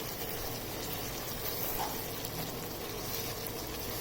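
Mutton achar gosht fries in oil in a pot, giving a steady, even sizzling hiss that carries on without a break and with no voices.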